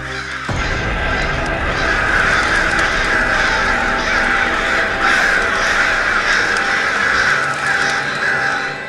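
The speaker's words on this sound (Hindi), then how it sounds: "कुछ दिनों से ये काले कौवे कुछ अजीब ही घूमने लगे।" Black crows caw again and again, loud and close, in a dense, overlapping chorus of harsh calls that runs steadily for several seconds after a short quiet start.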